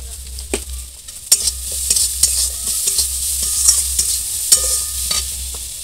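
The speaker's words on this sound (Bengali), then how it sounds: "এগুলো একটু ভালো করে ভাজব" A potato and egg mixture frying in a pan, a soft sizzle under repeated sharp scrapes and clacks of a spatula stirring at an uneven pace.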